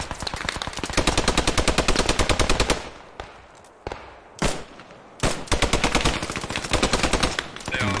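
Loud sustained machine gun bursts in the video game Post Scriptum, rapid automatic fire with a short pause of scattered single shots before the bursts resume.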